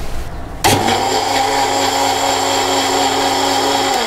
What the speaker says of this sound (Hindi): इसको ब्लेंडर में ब्लेंड कर लिया है